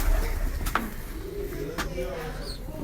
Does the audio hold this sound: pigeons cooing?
yes